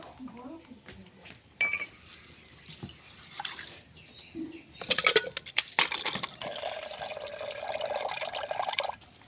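Lentils (dal) being rinsed in a pot under running tap water, with splashing, swishing and light clinks of the vessel, arriving in bursts, while someone talks over parts of it.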